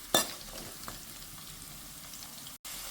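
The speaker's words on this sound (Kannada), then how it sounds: "ಹಾಗಾಗಿ ಇದನ್ನು 1-2 ನಿಮಿಷ ಫ್ರೈ ಮಾಡಿಕೊಂಡು ಆಮೇಲೆ ತೊಳೆಗಳನ್ನು ಹಾಕ್ಕೊಳ್ತೇನೆ" Lentils fry in a pan with a faint, even sizzle, one sharp clink at the start and a brief dropout near the end, no speech.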